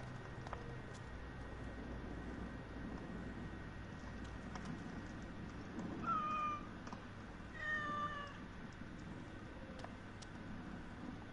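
Two short cat meows in the video game Assassin's Creed Origins, a couple of seconds apart, over a steady low background hum.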